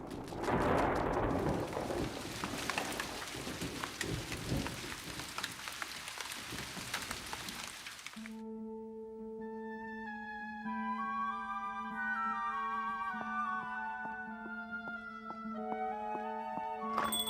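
Heavy rain pours steadily through an animated thunderstorm on a Christmas night, a dense, close hiss that fills the first half before giving way to music.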